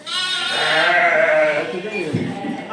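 Sheep bleat loudly and repeatedly, close by, with a flock's overlapping cries and some voices mixed in.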